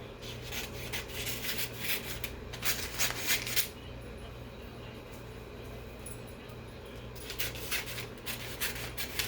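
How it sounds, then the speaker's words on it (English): Scissors snip through paper in a few bursts of crisp rustling and slicing, close by and moderately loud, with quieter pauses between cuts while working on a silky sock mask and headband. "And cut my paper."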